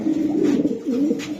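A pair of racing pigeons from a racing club coo close by, a loud throaty rolling call rising and falling twice in quick succession with no voices.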